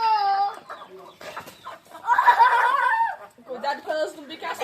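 Farm chickens clucking and squawking in a rural yard while being fed, busy bursts of hen calls mixed with people talking nearby.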